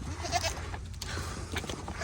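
Goats bleat on a farm, brief wavering calls over a busy low rumble of background noise, fairly faint and not far off.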